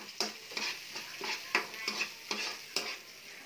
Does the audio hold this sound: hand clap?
no